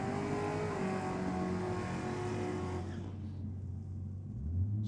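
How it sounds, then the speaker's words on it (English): Ford Falcon and Mercedes doing burnouts side by side at a Sydney drag strip night, a loud sustained engine roar with tire noise that cuts off sharply near the end, leaving a low idle rumble. "Strong burnouts from both sides. Yeah, the Falcon up against the Mercedes."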